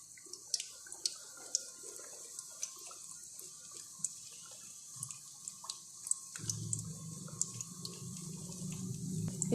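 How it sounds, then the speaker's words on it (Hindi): Wheat flour tikkis fry in ghee over low to medium flame, giving a faint crackle with scattered pops and sizzles that swell into a fuller, louder sizzle toward the end. "आप भी कोशिश करें कि इसको घी में ही फ्राई करें।"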